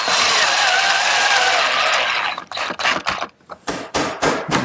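A 1.5-inch screw is driven into the side of a wooden jig with a power driver. A loud, continuous whir lasts about two seconds, then breaks into several short, choppy bursts.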